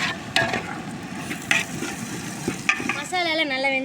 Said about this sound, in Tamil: மூணு தக்காளி வெட்டி வச்சுருக்கேன் அதை போட்டுடலாம் இது நல்லா குழஞ்சி வர வரைக்கும் வேகட்டும்